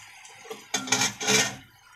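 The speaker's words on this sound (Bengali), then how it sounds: "অল্প গরম জল দিয়ে দেব," Hot water poured into mung dal cooking with bone-in meat gives a short splashing, sizzling rush in two quick surges near the start. It fades after about a second, with no talking.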